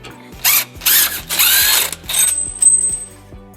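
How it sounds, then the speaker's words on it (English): A ratchet with a 12mm socket backs out two bolts from an exhaust hanger on a 2004 Nissan Murano, heard as three close, loud bursts of rapid whirring clicks followed by a faint lingering whine. "we're going to use a 12mm socket to remove these 2 bolts from the hanger."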